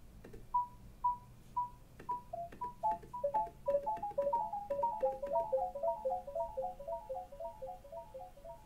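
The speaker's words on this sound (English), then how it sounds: "delay that's endlessly feeding back and getting quieter and quieter" Short electronic bleeps repeat in a steady pulse, then pile up into overlapping echoes that trail on as the delay keeps repeating.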